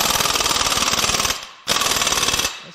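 A pneumatic impact wrench hammers on the large crank pulley bolt of a 2.0L Chevy Cruze diesel engine. It gives two loud, rapid rattling bursts, the first about 1.3 seconds long, then a short pause and a second burst, with no talking.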